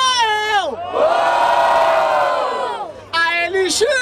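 Crowd at a rap battle in Barueri, São Paulo, roars and cheers for a rapper in one loud sustained swell lasting about two seconds, with shouted voices just before and after it.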